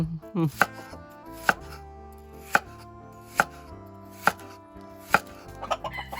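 A knife chops shallots steadily on a cutting board, sharp knocks spaced about a second apart with a few quicker taps, close and clear with no talking.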